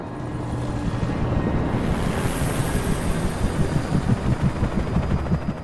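Helicopter in the video game Alan Wake, a steady low rotor thrum with a soft rhythmic chop under a wash of wind noise, held at an even, moderate loudness throughout.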